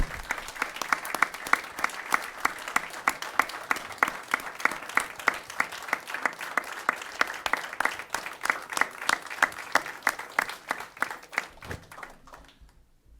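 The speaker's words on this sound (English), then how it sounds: "Give them a round of applause." Applause at a city council meeting in Midwest City, Oklahoma: a small group claps steadily in a sparse, uneven rhythm of distinct hand claps for about twelve seconds before tapering off.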